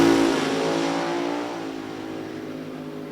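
Top Dragster race car engine roaring during a qualifying run at National Trail Raceway, a loud sustained blast that holds steady then eases slightly, with no talk over it.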